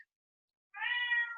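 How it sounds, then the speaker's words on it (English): A house cat lets out a single drawn-out meow after a moment of silence, close and fairly clear, with no one talking over it. "that's my cat"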